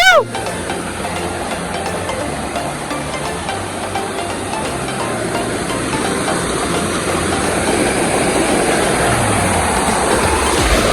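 A monsoon waterfall at Tamhini Ghat near Pune pours during heavy rain, producing a loud, continuous rushing roar close by that fills the whole stretch after a brief sharp sound at the start.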